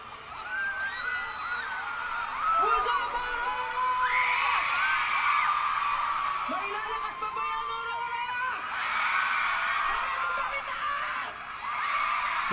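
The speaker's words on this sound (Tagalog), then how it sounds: "Grabe yung sigaw tili nun." A large festival crowd screams and shrieks continuously for a live set at Aurora Music Festival 2024, a loud, dense roar with rising whoops and cheers throughout.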